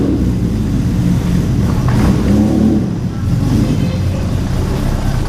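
Engine note rising and falling in a steady drone at an outdoor motorcycle show, a Honda CBX rolling past at moderate distance with a brief throttle swell, no clear talking.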